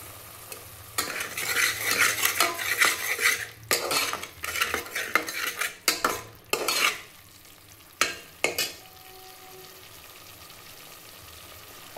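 A spoon stirs spices for egg biryani in a pan, scraping and clinking in uneven bursts over a soft sizzle, with gaps of quieter frying between strokes.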